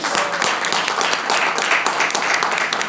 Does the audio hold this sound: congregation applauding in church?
yes